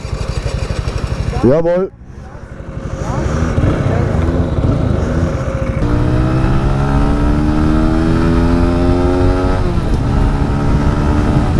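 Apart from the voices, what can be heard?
motorcycle starting and revving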